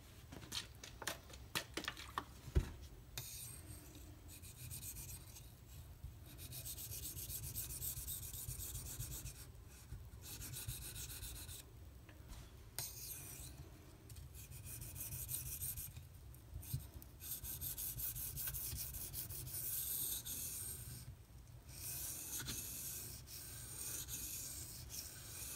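S90V steel knife being sharpened on King and Suehiro Cerax whetstones, a steady close rasping rub of steel on stone in repeated back-and-forth strokes with brief pauses between passes.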